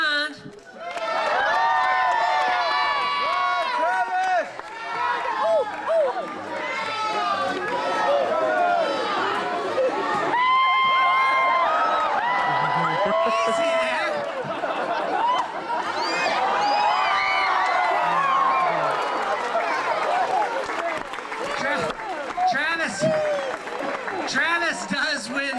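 A crowd at a kids' team race, red team against green, shouts and cheers on the runners with overlapping excited voices, claps and chatter, loud and continuous throughout.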